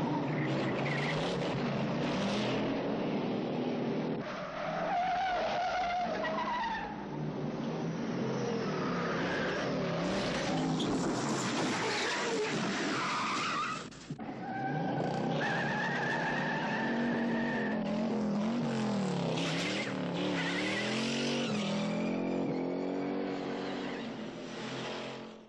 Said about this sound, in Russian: скрежет резины